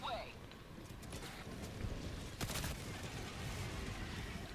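A cluster bomb strike from an airstrike in Helldivers 2 sets off a dense rattle of overlapping blasts, with a sharper burst midway, under a low rumbling game background.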